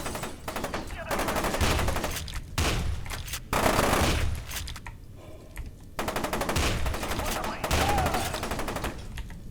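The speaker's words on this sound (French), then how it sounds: "Ça c'est un fusil à pompe." Shotgun blasts in the video game FEAR 2, heavy booming shots in quick bursts with short gaps, loud and dense with in-game noise between them.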